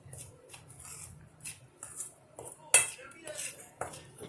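A utensil mixes besan and maida flour in a metal bowl, making irregular scraping strokes and sharp clinks, one louder knock in the middle, over a faint low hum.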